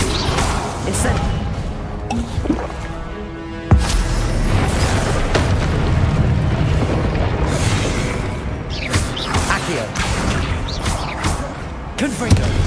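A fire spell, Incendio, cast in the video game Hogwarts Legacy, bursting with a loud whooshing, crackling blast amid a dense, continuous stream of combat effects, with further impacts and bursts throughout.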